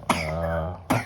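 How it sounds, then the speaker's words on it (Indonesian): Two coughs a second apart, close and fairly loud, the first a longer harsh cough with a voiced tail and the second a short sharp burst. "ada yang batuk. Siapa yang batuk ya?"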